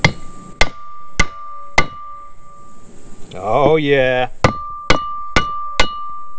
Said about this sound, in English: we have to hammer this seal in the same all the way around until it goes down